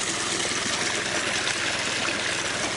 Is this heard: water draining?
yes